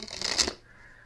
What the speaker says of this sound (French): Hop, je remélange le jeu de cartes.